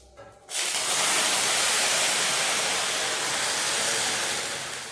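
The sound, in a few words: water poured slowly into a hot kadai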